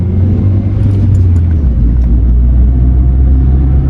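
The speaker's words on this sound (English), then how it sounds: "you can hear all the sounds that the engine produces" A Renault Twingo engine drones in a loud, steady low rumble while driving at 30 km/h, heard close up from inside the car and holding an even pitch throughout.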